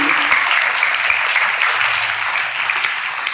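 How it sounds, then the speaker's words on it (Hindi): Sustained, loud applause from a school audience honouring students for their exam results, a dense even wash of clapping with no voices over it. "एक बार जोरदार तालियां हो जाए इन सभी बच्चों के लिए"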